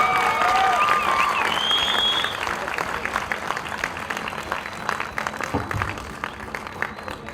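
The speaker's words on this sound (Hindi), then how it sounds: "चलो ना, ताली मारो, क्या शर्माते हो यार।" An audience at a Mumbai launch event for a music tours and travels company, attended by a celebrity, breaks into dense applause that thins out and fades as a voice talks over the dwindling claps.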